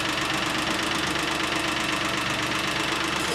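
Geo car engine idling with ticking lifters, a fast, even metallic tapping over a steady close engine hum.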